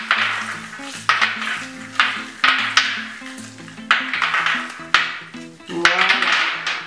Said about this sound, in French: Vous pouvez prendre de grandes poignées et frotter comme ceci.